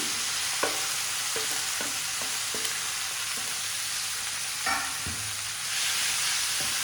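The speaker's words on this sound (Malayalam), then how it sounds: "നെയ്യിലേക്ക് സവാള ഒക്കെ ഇട്ടിട്ടൊന്ന് വഴറ്റിയെടുക്കണം സവാള പച്ചമുളകും തക്കാളി ഇത് മൂന്നും കൂടി" Onions, green chillies and tomatoes sauté in ghee at home, giving a steady sizzle with repeated scraping stirs of a spoon against the pan. There is no talk.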